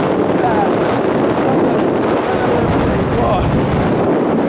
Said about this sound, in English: I do apologise in advance for the wind that's going to be going on right now